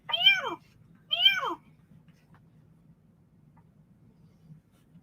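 A cat meows twice in quick succession, clear and fairly close, then a quiet hum fills the rest with no talking.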